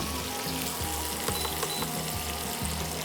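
Spices for a Bengali shukto fry in a pan with an even, close sizzle and faint rhythmic scraping underneath, steady and unbroken for the short stretch, with no voices.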